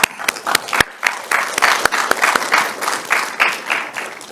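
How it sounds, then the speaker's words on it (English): Clapping from a hackathon audience honoring the judges, a lively, close burst of many hands with a few sharp, loud claps at the start before it settles into a steady, rippling round. "a round of applause for the wonderful judges"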